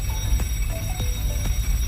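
Alarm signalling that the spring starter of a ship's emergency generator is engaged: a steady electronic alarm tone over a low engine-room hum, with a few sharp clicks spaced through it.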